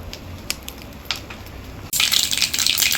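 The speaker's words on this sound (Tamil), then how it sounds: "எண்ணெய் காஞ்சிடுச்சுப்பா, கடுகு போட்டுக்கலாம்." Mustard seeds hit hot groundnut oil in a kadai and burst into a loud, close, crackling sizzle that holds steady after a quieter moment of faint clinks, with no talk.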